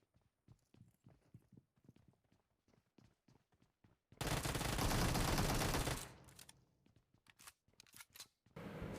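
Gunfire in the mobile battle royale game PUBG Mobile, with a dense sustained burst of automatic shots for about two seconds, framed by sparse sharp single shots and footstep-like clicks before and after.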